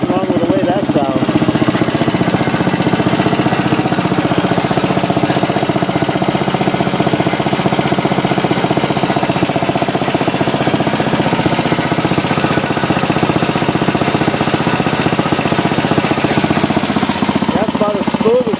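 The engine of a restored 1967 Wheel Horse 857 garden tractor runs steadily and loud for the whole stretch, a close, even small-engine chatter with a rapid knocking pulse and no pauses.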